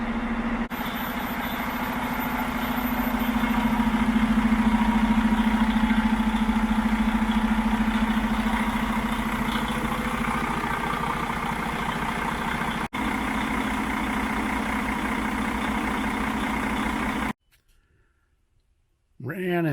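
A Freightliner farm semi truck engine idles steadily with a low, even rumble that holds for most of the clip, then cuts off abruptly near the end.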